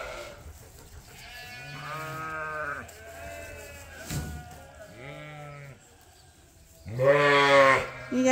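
Sheep bleating on a farm, several wavering calls spaced a few seconds apart at moderate distance, the last one louder and nearer, with quiet background between calls.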